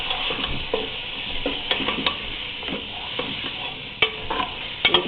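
Garlic and ginger sauté in a hot pan, a steady sizzle and fry broken by a run of scraping stirs and light clinks of a spoon against the pot, close and continuous with no talking.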